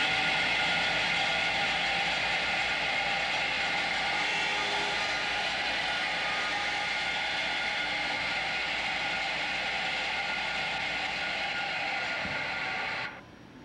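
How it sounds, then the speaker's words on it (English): A Dodds SE-25CNC-TS CNC single end dovetailer runs through a part, giving a loud, continuous mechanical whir and grind that holds steady before cutting off abruptly near the end. "Now switch spindle selector switch to on and depress foot pedal to begin part."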